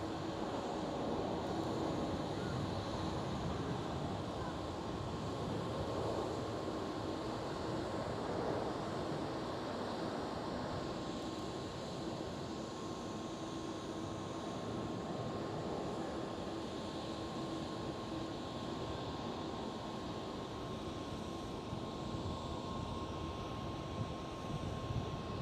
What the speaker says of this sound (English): There goes Transavia 737.